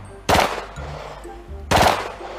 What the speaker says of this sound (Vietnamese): Các bạn có thể đánh giá được rằng là cây súng lục G18 này nó rất nhanh và rất là mạnh anh em ạ